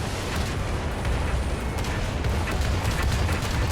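Heavy cannon fire from a KV-2 tank in War Thunder gameplay, a dense continuous barrage of booming blasts rolling into one another at a rapid rate, loud and close with no talk.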